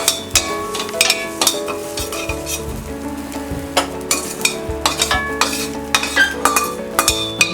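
Curry leaves and asafoetida being stirred in a pan for South Indian molaga podi, with a close, steady crackle of frying and repeated sharp scrapes and clinks of a spoon against metal.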